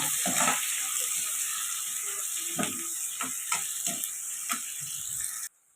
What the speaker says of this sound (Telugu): ఇప్పుడు ఆనియన్స్ అయితే ఫ్రై చేసుకుందాం అదే ఆయిల్లోని ఆనియన్స్ వేసుకుందాం ఇది బాగా ఫ్రై అవ్వాలి